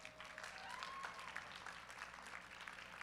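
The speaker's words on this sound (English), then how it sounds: "Give them one more round of applause." Audience applause at a college powerlifting nationals awards ceremony, a steady, moderately distant wash of clapping for the medalists, with a faint whistle-like tone near the start.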